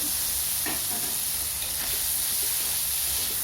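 Fried potatoes tipped into a pan of cooked-down spice paste and oil for a Bangladeshi kachki fish chorchori with eggplant, giving a steady loud sizzle with a few soft stirring scrapes and clatters.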